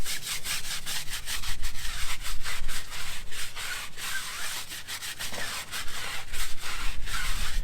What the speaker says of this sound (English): when I start scrubbing this, the tyre's going to turn quite black